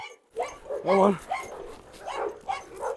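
A dog gives a few short, sharp barks and yips at moderate distance, mixed with voices talking.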